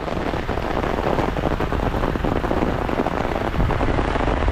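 Steady heavy rain pours down, a dense constant hiss of drops pattering on surfaces with no voices.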